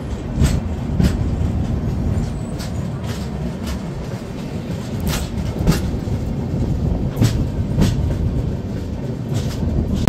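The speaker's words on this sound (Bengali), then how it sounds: "2 মিনিট দাঁড়িয়ে ট্রেনটা ছাড়লো" The 12178 Chambal Express rolls along the rails after a station stop, a continuous loud rumble punctuated by regular clickety-clack wheel beats.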